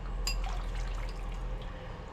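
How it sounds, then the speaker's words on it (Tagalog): Water pours into a pot of Budae Jjigae, Korean army stew, starting with a brighter splash and settling into a steady, close liquid trickle with faint drips throughout. "Tabihan natin ng konti ang tubig."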